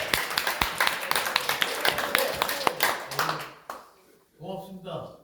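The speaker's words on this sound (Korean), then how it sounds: "박수!" Applause at a union delegates' assembly, a burst of scattered handclaps for about three seconds that fades out, followed by a speaking voice.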